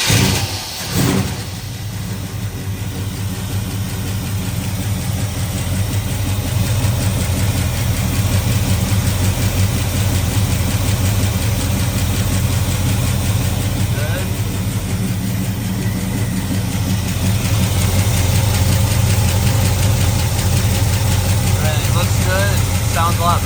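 Upgraded Chevrolet Camaro engine idles steadily after starting, a loud continuous low rumble that runs unbroken throughout, close by, with no talk heard over it.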